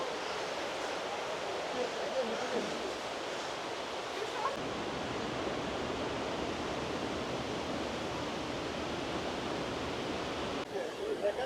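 A Yosemite waterfall roars at full spring flow in misty conditions, a steady, dense broadband rush that holds continuously and loudly throughout, with a slight change in texture near the end.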